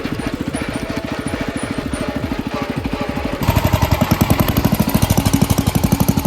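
A homemade redneck tractor's small engine chugging close by in a fast, even putter that steps up louder and busier midway as it shifts gears, with no voices.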